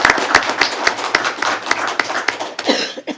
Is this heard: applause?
yes